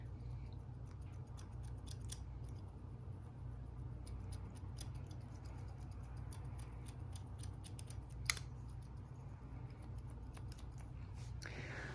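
Scissors snipping hair during a haircut, blending the corners and crown into the top: a run of small, crisp clicks repeats steadily throughout, faint over a low steady hum, with one sharper snip near the end.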